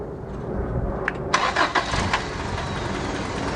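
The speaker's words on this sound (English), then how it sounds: "my helper is going to start the engine up." Toyota 4Runner with a misfire being started, the starter cranking briefly before the engine catches and settles into a rough, close idle.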